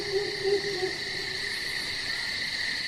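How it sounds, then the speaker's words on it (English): A Sunda scops owl calls from the trees at night, a steady tonal hoot over a constant chorus of insects, with no voices present. "So that's a smaller owl called the Sundascops owl"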